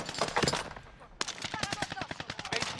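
Rapid automatic gunfire from a battle royale video game, a burst of sharp shots early and then a dense, rhythmic string of rounds, fairly loud throughout.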